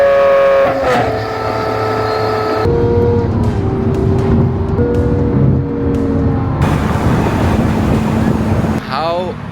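A straight-piped Lamborghini SVJ at night in Bangkok, its exhaust blaring loud and close as the revs climb and shift in steps, the pitch jumping between gears, with a sharp crackle near the end.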